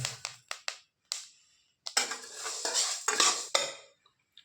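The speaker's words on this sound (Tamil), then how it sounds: "ஸ்டவ்வை சிம்மில் வச்சு வறுத்துக்கிறேன் இப்போ இது கூட எள்ளு சேர்த்துக்கிறேன்" Spices and sesame seeds dry-roast in a pan on a low flame for temple-style puliyodharai, heard as a run of sharp metal scrapes and clinks from stirring, then a denser stretch of scraping before it falls quiet.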